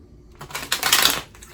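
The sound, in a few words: shuffling a deck of tarot cards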